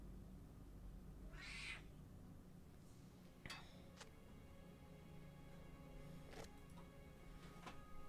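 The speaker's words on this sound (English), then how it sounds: "He's a grumpy kitty." A cat lets out a short, faint meow against a steady low hum, followed by a few soft clicks and knocks.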